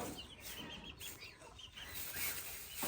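A hen on a farm gives soft, repeated clucks at close range, the calls faint over a hissy background.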